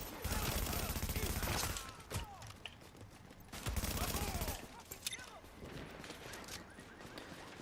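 Rapid bursts of gunfire from the video game Division 2, loud volleys clustered in two heavier stretches with scattered mechanical clicks between them, fading to lighter shots near the end.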